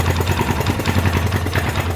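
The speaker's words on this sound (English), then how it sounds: "Idling pretty damn rough." An SM610 motorcycle engine idles roughly, a loud uneven low chugging with a stumbling, irregular pulse throughout, while it burns off cleaning fluid with the choke off.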